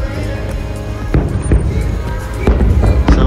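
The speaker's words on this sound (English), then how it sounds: "water fireworks popping." Several booming pops from water fireworks at Disney World go off at irregular intervals, loud and close, with crowd noise and a voice underneath.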